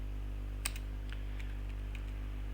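Keys on a computer keyboard are tapped out while typing an SSH command at a command prompt. A handful of quick, light clicks sit over a steady low electrical hum, with no voices.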